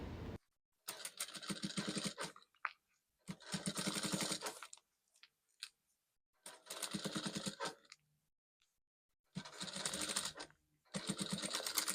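A domestic sewing machine stitches fabric in four quick, even bursts of rapid mechanical whirring, each separated by a short pause and a faint click, close up and otherwise quiet.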